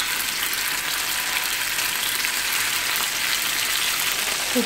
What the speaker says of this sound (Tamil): இப்போ இந்த சிக்கன் எண்ணெயில் போட்டு பொரிக்காமல் தோசைக்கல்லில் போட்டு சுட்டும் எடுக்கலாம்.